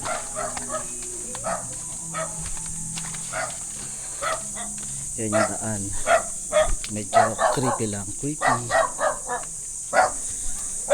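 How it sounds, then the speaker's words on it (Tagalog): Several dogs bark repeatedly in quick bursts, fairly close, while a person talks over them; a high steady insect buzz runs underneath. "tsaka maraming aso"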